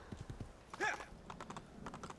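Hooves clip-clop in a quick, light rhythm as a horse trots in Assassin's Creed II, fairly faint, with a brief whinny-like cry partway through.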